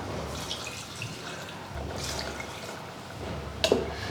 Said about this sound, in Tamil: இப்போ இங்கே நான் மிக்சியில் தண்ணி சேர்த்து வச்சுருக்கேங்க இந்த தண்ணி இதில் சேர்த்துடலாம்